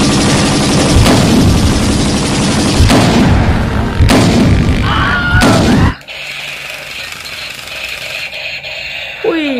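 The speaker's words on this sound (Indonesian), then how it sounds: "mainan tembakan basoka" A toy bazooka plays its electronic firing sound effect as a series of loud, repeated blasts for several seconds. The sound then drops to a quieter background with a short chirp at the end.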